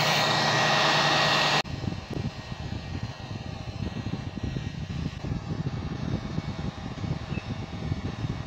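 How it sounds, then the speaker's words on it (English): Hot air rework blower set around 300 degrees, used with a preheater for laptop processor replacement on a motherboard; a loud steady airy roar, very strong at the start then settling into a continuous rushing hiss for the rest, with no speech. "Let me get my blower and set it around 300."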